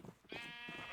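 A sheep bleats in a video game, a single drawn-out wavering bleat following faint low murmuring, moderately clear and close.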